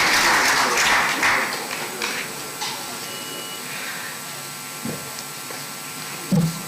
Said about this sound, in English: Let's have a big round of applause for our chairman.